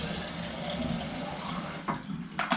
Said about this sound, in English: I'm going to also have some fresh water in my water bottle